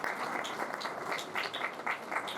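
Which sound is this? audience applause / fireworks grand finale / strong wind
audience applause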